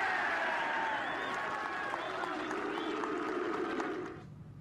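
A golf gallery at the Ryder Cup applauds and cheers in a dense, steady burst that fades near the end, while a commentator talks over the crowd.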